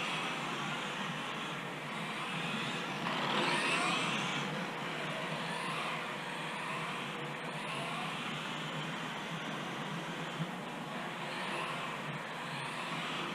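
Tamiya TT-02SW radio-controlled touring car running laps on a track, a steady high electric whine that swells briefly and fades as the car passes, moderately faint and continuous, with no talking.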